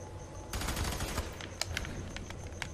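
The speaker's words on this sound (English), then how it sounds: "Ah, getting shot up." Gunfire in the shooter FEAR 3: a dense, muffled rattle of automatic fire with a few sharper crack-like shots over a noisy game background.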